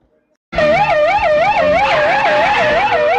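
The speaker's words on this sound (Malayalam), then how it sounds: "ആംബുലൻസിൻ്റെ സൈറൻ." Ambulance siren wailing loud and close, a steady rising-and-falling electronic tone cycling about twice per second after a brief silent start, with no voices over it.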